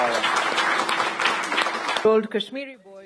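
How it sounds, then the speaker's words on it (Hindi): Crowd applause at a National Science Film Festival award ceremony in Mumbai fills the first two seconds, then cuts off as a voice begins speaking. "तालियों की गड़गड़ाहट के बीच"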